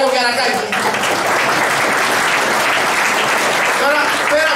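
A hall audience claps for Greek minister Kyriakos Pierrakakis on Naxos, loud sustained applause from a crowd, with a voice heard at the start.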